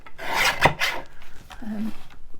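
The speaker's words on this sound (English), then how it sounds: "So let's have a white. Trim the edge off." A paper trimmer slices the edge off a sheet of white paper for a handmade envelope, giving a close, rasping scrape with a sharp crisp snap partway through, followed by a softer brief rub.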